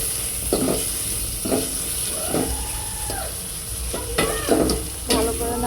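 Sweet pumpkin and small shrimp curry stirred in a pan, with a low steady sizzle broken by repeated scraping strokes of a spatula and a few louder clatters toward the end.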